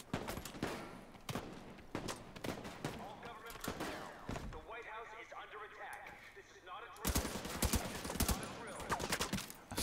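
Bursts of gunfire from the shooter video game The Division 2, with rapid volleys at the start, a quieter stretch in the middle and a dense, loud return of shots near the end.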